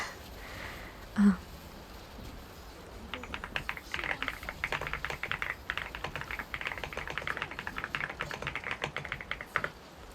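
Quick, light taps on a computer keyboard, fairly close and soft, running in irregular bursts for several seconds after a brief sniff.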